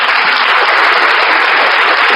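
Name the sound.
audience applause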